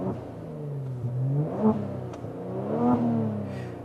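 A Kia Stinger GT twin-turbo V6 with its muffler deleted revs in neutral, two rising and falling engine swells, each climbing in pitch and then dropping back to a rough idle, loud and close.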